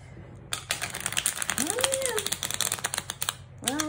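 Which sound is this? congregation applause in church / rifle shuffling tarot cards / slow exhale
rifle shuffling tarot cards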